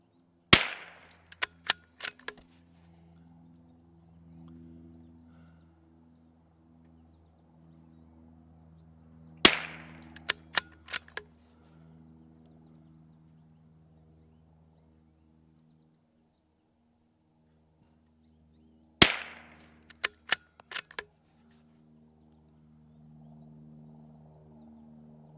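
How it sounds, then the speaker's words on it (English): A Ruger RPR rimfire rifle fires CCI standard velocity rounds in three sharp, loud single cracks spaced about nine seconds apart, each followed by quick mechanical clicks of working the bolt, with quiet between shots. "We're going to start off with the CCI standard velocity, 5-shot group, top right target."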